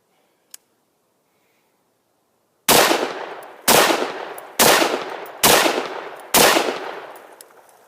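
Five loud rifle shots from a newly built project rifle with a Duracoat camo finish, fired during its first test, each sharp crack ringing out about a second apart after a brief faint click.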